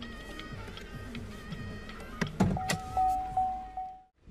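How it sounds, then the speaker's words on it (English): Motor whir of the automatic power windows on a 2017 Cadillac ATS Coupe, a steady close electric hum with a few clicks and thumps as the glass travels and stops, ending abruptly in silence. "Both windows are fully automatic"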